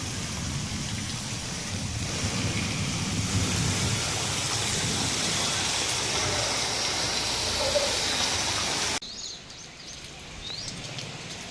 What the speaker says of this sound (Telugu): అర్ధరాత్రి నుంచి కురుస్తున్న వర్షాలకు వాగులు, వంకలు ఉధృతంగా ప్రవహిస్తున్నాయి.